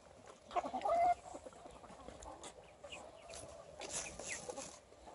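An ispenç rooster among free-range farm chickens, giving a loud crow-like call near the start, followed by soft scattered clucking and background activity in an outdoor setting.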